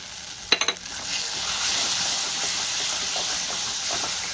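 Cashew and raisin paste going into a hot pan for a vegetarian paneer dish, a few sharp splatters at first, then a steady close sizzle and hiss that keeps up without pause.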